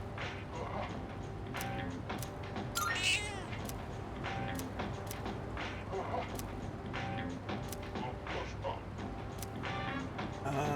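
A cat meows while being fed at home, a few short mews among soft clinks, thumps and household clatter, fairly quiet throughout.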